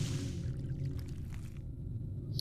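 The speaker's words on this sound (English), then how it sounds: "That sounded like water." In Corpse Party: Book of Shadows, water pours with a steady low gurgling rush, faint and continuous throughout, with a few soft drips near the end.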